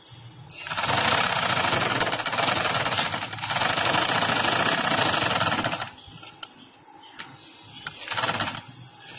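A sewing machine stitches a collar onto the neckline of a ladies' shirt, loud close rattling runs for several seconds, then shorter bursts and pauses as the fabric is adjusted.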